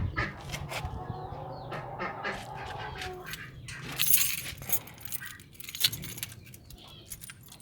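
Keys jangle and rattle in irregular bursts as the key to a farm animal enclosure is handled at the door, with nearby ducks or geese faintly audible in the background.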